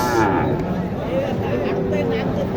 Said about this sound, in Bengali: এটা হচ্ছে ক্রস গরু